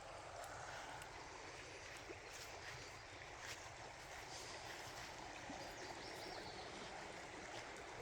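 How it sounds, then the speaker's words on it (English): Steady, continuous rush of river water flowing beside an old riverside campsite, a broad even wash with no voices, close and moderately loud throughout. "you get to hear this nice sound of the water"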